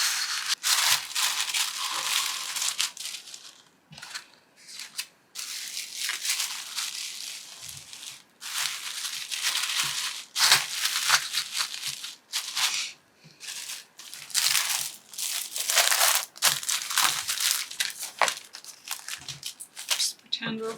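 Paper packaging crinkles, crushes and tears in repeated bursts while being folded by hand to pack an online shop order, close and fairly loud, with short pauses between handling noises.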